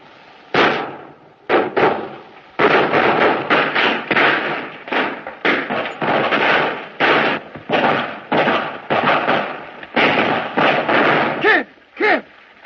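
Gunshots ring out during a bank robbery in the 1931 film Cimarron, a long series of loud, close, evenly spaced blasts, each clipped and echoing, with short pauses between volleys.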